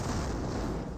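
A grenade explosion in Company of Heroes, a wartime strategy video game, heard as a dense, rumbling blast that fills the moment without any voices.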